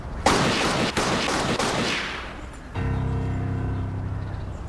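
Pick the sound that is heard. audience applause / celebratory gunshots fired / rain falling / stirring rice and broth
celebratory gunshots fired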